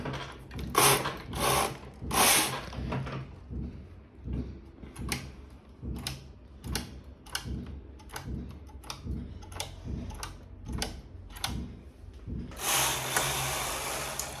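A knitting machine knits a sweater as its carriage is pushed across in steady, regular clacking passes. The sound is close and mechanical, with louder swishing strokes at the start and end.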